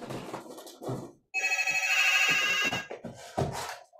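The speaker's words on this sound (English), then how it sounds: "sorry, my phone is ringing here" A phone's ringtone sounds for over a second as a bright, steady electronic ring, with someone talking before and after it.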